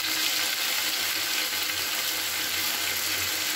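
Ginger and green chili paste frying in a pan with beans, potato and eggplant gives a steady, moderate sizzle with a constant hiss throughout, no voices.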